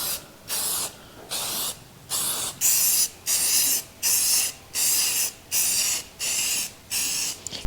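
Spray paint hisses from an aerosol can onto a Mossberg Maverick 88 shotgun in a series of about ten short, even bursts with brief pauses between, close and fairly loud.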